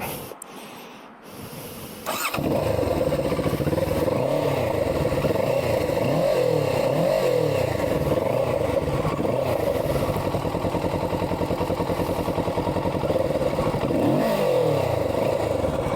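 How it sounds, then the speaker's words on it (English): A Kawasaki Z650 motorcycle engine idles loudly and close, with a few quick throttle blips that rise and fall over the steady exhaust rumble. "Let me stop here and quickly show you the exhaust."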